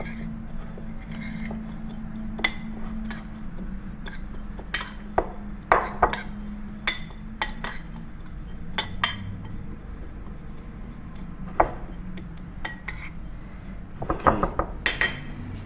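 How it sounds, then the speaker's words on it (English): Black and white sesame seeds being mixed together in a bowl bring quick, bright clinks and taps of a utensil against the dish in irregular bursts over a low steady background, with no one speaking. "I'm gonna do the black one and the white one. And here I'm gonna mix them together first."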